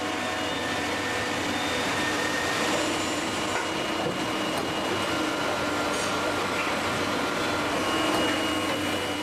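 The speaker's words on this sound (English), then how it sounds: "It injects molten plastic into a pair of steel moulds." A plastic injection moulding machine fed with neutral and coloured plastic pellets runs continuously, a steady mechanical hum and whirr with a faint hiss, close and even, with no voices.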